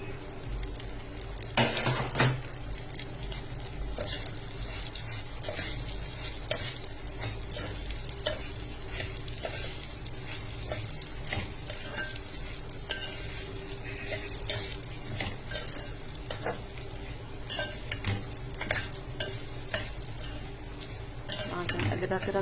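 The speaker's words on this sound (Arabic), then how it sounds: "نقلبها كده كويس" Egyptian rice with vermicelli is stirred in a pot, producing close, continuous scraping and grain-rustling strokes over a light frying sizzle. The strokes keep a steady, uneven rhythm for over twenty seconds, with no talk.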